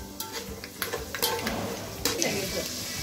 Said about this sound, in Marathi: शेंगदाण्यांची सालं निघेपर्यंत आपल्याला हे परतून घ्यायचे.